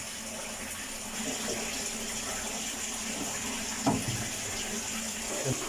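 Sewage pump motor running after its relay contact was replaced, a steady watery rushing and gushing flow with faint knocks, continuous and moderately close, no talk.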